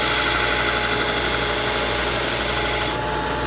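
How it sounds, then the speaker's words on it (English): Belt sander grinding the edge of a wooden peg box, a loud steady broadband whir with a constant motor drone throughout, the pitch and texture shifting slightly near the end. "The sander will pull this down, so you can hold it like this."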